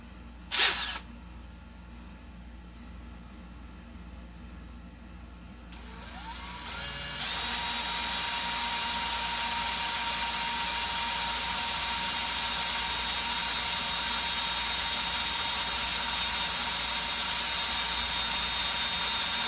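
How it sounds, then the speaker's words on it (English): A drill bores and taps aluminum on a Remington 700 stock, starting with a sharp knock, then settling into a steady, continuous high-pitched whine that runs loud and close for the rest of the clip. "So let's get to drilling and tapping. And since this is aluminum, I'm not going to need to use any lubricant."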